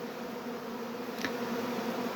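Caucasian honeybees hum steadily nearby, a constant drone with one insect briefly buzzing past close by midway.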